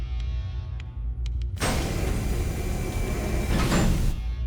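Heavy sci-fi spaceship outer door sliding shut with a loud sustained hissing, rumbling whoosh lasting a few seconds after a few faint clicks, then settling.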